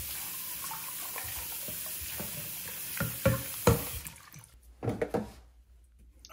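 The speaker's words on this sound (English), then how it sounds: "we're gonna rinse out the P-trap and get this nice and clean" Water runs from a tap to rinse out a sink P-trap, with splashing and sloshing that ends in a few uneven gurgles and splashes near the end.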